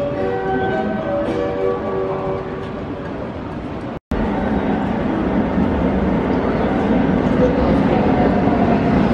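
A JR commuter express train rumbles steadily into a station at platform 8, with a tonal hum early on and a brief dropout midway, the rolling noise continuing loud and close.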